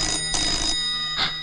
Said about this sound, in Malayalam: ആരേലോ ഫോൺ എടുക്ക്.